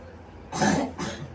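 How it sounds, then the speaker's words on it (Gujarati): Elderly woman coughing, two short harsh bursts close by, the first stronger and longer than the second, with quiet room tone around them. "ઉધરસ આવે છે?"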